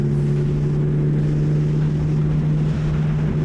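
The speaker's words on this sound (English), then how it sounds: "Now we're gonna accelerate again. 4th gear." A historic Formula Ford race car in fourth gear on a track, heard from inside as a loud, close, steady engine drone at an even pitch, with rushing wind noise and no voices.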